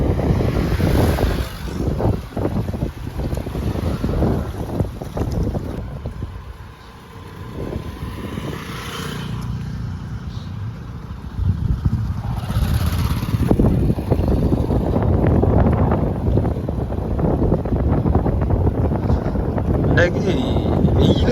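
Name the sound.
floodwater flowing under Vattuvakal bridge, Mullaitivu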